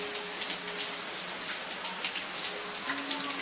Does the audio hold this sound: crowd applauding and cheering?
no